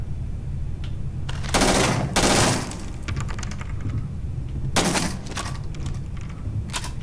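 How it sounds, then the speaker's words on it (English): Gunfire in the video game Starfield, with bullets striking wood in a lodge: bursts of rapid shots and clattering impacts come in two clusters, moderately loud over a steady background. "You can actually hear the bullets hitting the wood."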